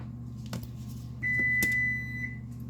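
An oven beeps on finishing preheating to 400 degrees: a few short electronic tones followed by one longer beep, heard over a low kitchen hum.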